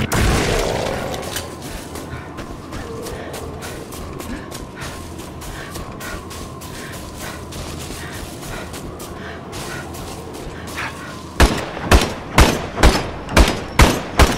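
Gunfire in the video game Evil Dead: The Game: a dense, steady rattle of shots, then a loud, evenly spaced series of single blasts near the end.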